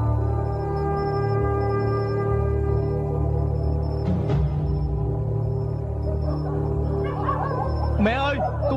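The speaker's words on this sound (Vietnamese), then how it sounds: "bị cả đám chó đuổi theo như vậy thì là nguy hiểm quá" A pack of dogs bark and yip in bursts over steady background music, the barking growing busier toward the end.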